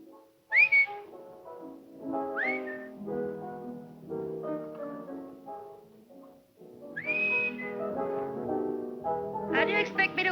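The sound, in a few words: person whistling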